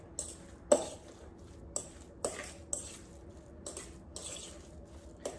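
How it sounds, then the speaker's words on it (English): Lobster ravioli filling stirred in a bowl with a utensil, giving a few sharp clinks and scrapes at irregular intervals over soft wet mixing, close and fairly quiet, with no talking. "And stir it up."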